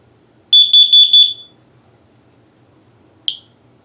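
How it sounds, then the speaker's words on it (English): Kidde smoke and carbon monoxide alarm sounding its fire tone: three long, loud, piercing pulses in quick succession, then silence and a single short chirp. "it produced a fire tone which is 3 long pulses along with a message saying fire, fire."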